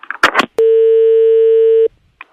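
A telephone busy tone sounds after a call is hung up: one long steady electronic beep, loud and clear, with brief bursts of talk just before and a little after.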